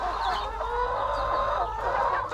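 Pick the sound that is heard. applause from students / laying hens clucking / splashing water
laying hens clucking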